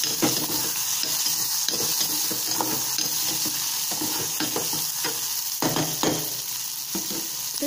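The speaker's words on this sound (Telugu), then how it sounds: "టమాటా ముక్కలు కూడా వేసి ఫ్రై చేసుకుందాం" Onions, green chillies and tomato pieces fry in a pan with a continuous close sizzle and repeated stirring scrapes throughout, no voices.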